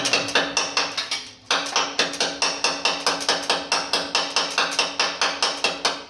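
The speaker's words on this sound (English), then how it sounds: "I'm going to tap this in just a little bit if I can get it" A hammer taps steadily on a metal part of a 1948 Chevy truck, giving a rapid, even series of loud, ringing close-up strikes with one brief pause partway through and no talking.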